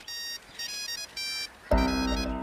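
A mobile phone ringtone chirps in short repeated bursts, then a louder tone swells in and holds, fairly close.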